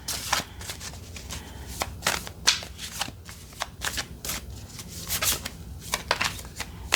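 Tarot cards are shuffled repeatedly, crisp riffling bursts and soft sliding rubs recurring every second or so, close and fairly quiet with no talking.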